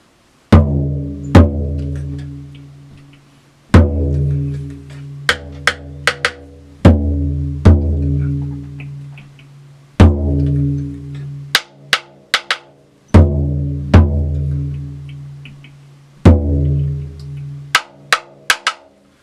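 Deep, booming taiko drum hits in a repeating pattern, each ringing out, with sharp rim-like clicks and quick double strikes between the big beats.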